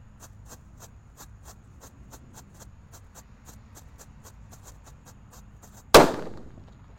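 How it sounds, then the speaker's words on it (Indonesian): Red Happy Flower firecracker set off outdoors during Ramadan, a faint steady sputtering fuse crackle with regular ticks for several seconds, then one sharp, loud bang near the end. "Happy Flower yang warna merah. Let's go. Sudah menyala."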